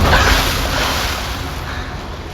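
Ocean waves surge and wash in a dramatized underwater-tunnel escape scene, a dense, roaring rush of water that starts loud and gradually eases off, with no voices.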